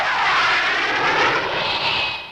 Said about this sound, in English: Their unique Pegasus engines allow these P1127s to perform almost any evolution in flight.